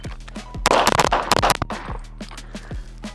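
Pistol shots fired during a timed shooting drill, several sharp loud reports in a quick burst followed by a few spaced shots, with range echo and no talking.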